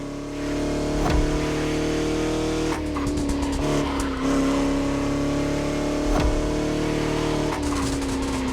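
Bugatti car engine in the video game The Crew Motorfest, driving along French countryside roads, holds a steady droning tone, with brief bumps and a short dip and recovery in revs, loud and continuous with no talk.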